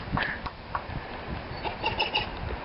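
An eagle named Ena chattering over its freshly caught pigeon prey: a series of soft, clucking calls in irregular short bursts, fairly close.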